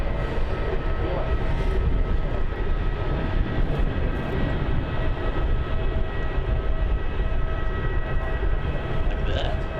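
An airliner taking off from runway 27 at Melbourne Airport: a steady, broad engine roar holds at a constant loud level throughout, with no talk over it.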